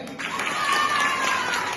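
An audience at an Assamese stage speech breaks into a short burst of clapping, a dense crackle of many hands heard at moderate distance with murmuring voices mixed in.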